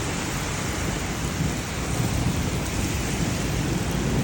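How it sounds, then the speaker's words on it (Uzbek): Steady rain falling outside a caravan parked in Köprülü Canyon near Antalya, heard from inside as a dense, even wash of drops with no voices. "Yomg'ir tomchilari insonga huzur beradi."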